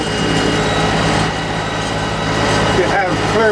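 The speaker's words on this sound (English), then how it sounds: "we're back in here right now mowing the trail" Tractor engine drones steadily at close range while mowing a grass trail through fields beside timber land, a loud continuous low rumble with no pauses.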